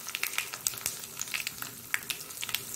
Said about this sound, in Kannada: ಸಾಸಿವೆ ಉಡಿಲಿ, ಸ್ವಲ್ಪ ಜಜ್ಜಿಟ್ಟ ಬೆಳ್ಳುಳ್ಳಿ